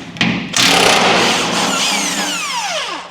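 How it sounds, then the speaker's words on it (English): A pneumatic impact wrench loosens bolts on a brush hog mower: a short burst, then a sustained loud, close hammering rattle that ends in a descending whine as the tool spins down. "I'm gonna go on the bottom with the impact and impact them out"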